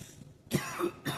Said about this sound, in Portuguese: Pausa tosse.